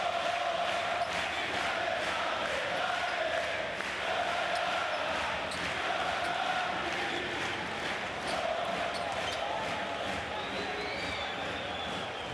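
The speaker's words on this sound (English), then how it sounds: "About as loud as we've heard the crowd tonight." Loud basketball arena crowd at a EuroLeague game between Maccabi Tel Aviv and Panathinaikos, roaring and cheering continuously throughout, with a dense, steady wall of noise that swells slightly, and no clear talk above it.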